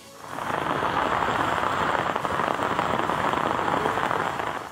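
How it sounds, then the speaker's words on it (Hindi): Heavy rain pours steadily during floods in Pakistan, a dense, continuous roaring hiss of water striking surfaces that holds loud and even throughout. "नूरपुर, थल, झंग, खानपुर समेत मुख्तलिफ शहरों में वक्फे वक्फे से कहीं तेज तो कहीं हल्की बारिश का सिलसिला जारी है।"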